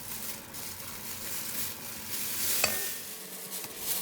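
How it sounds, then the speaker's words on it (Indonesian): Cake batter for sago cookies is stirred in a mixing bowl, a continuous soft scraping swish with one brief sharp tap near the middle, quiet and free of talk. "Terus diaduk lagi sampai rata, sampai teksturnya itu menjadi seperti ini."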